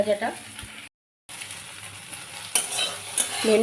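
Sliced okra (bhindi) frying in a pan at home, a steady close sizzle with scraping stir strokes, one brief dropout, and louder spatter near the end.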